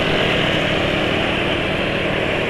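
Motorcycle engine running smoothly after an oil change to PAO and ester oil, a dense, continuous broadband roar at steady loudness with no pauses, close and uninterrupted.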